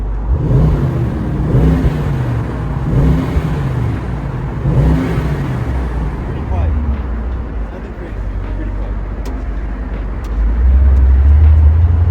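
A Mercedes-Maybach SL 680 engine revs in several rising and falling bursts, loud and close, then settles into a lower rumble before one final louder swell.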